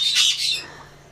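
Loud birds squawk and chirp close by in spring, a dense burst of shrill calls that fades quickly into quiet background.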